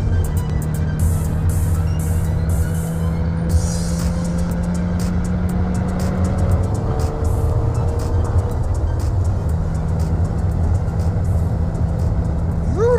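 A Ford Mustang EcoBoost HPP, a turbocharged four-cylinder on sticky Pirelli tires, drives hard on a race track. Its engine drones steadily and loudly with rising and falling tones and shifts, and sharp clicks and ticks cut in throughout.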